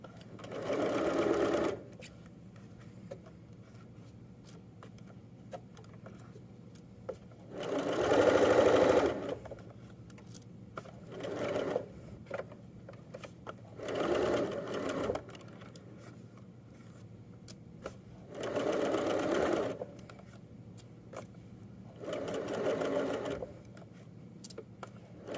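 A sewing machine stitches a joggers waistband in several separate bursts of whirring, each a second or two long, with quiet pauses between them and no voices.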